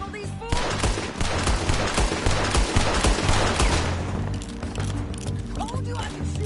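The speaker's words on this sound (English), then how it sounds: "Told you I could shoot a gun, didn't I?" Dense video-game gunfire rattles in rapid bursts for several seconds during a shootout, loud and close, with voices and shouts mixed in before the shots thin out near the end.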